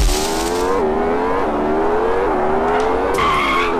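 A car racing and skidding in an Android open-world racing game near an airport, with a loud, steady engine whine that rises and dips through gear shifts and sharp tire squeals toward the end.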